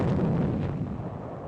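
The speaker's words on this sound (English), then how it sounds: "Guns are set up to blast Jap positions which have been harassing supply lines in range of the bypassed hills." Artillery guns firing on cave positions on Okinawa in wartime, a heavy deep boom that rolls and decays over about a second and a half, loud and booming with no voices.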